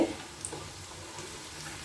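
Mung puli pitha fry in hot oil with a soft, steady bubbling sizzle, close and continuous, with a small clatter at the start.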